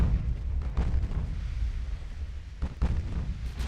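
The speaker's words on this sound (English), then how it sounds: "Torpedo hit" Deep rumbling booms of a torpedo hit in the naval warfare game Ultimate Admiral: Dreadnoughts, a low, rolling blast with a couple of muffled thuds, moderately loud and heard alone.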